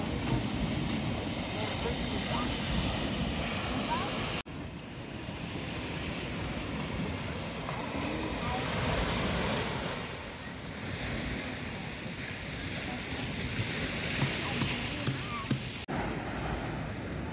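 Surf washing onto a beach at Nusa Penida, Bali, heard as a continuous broad rush of waves with wind buffeting the microphone, fairly loud and steady throughout.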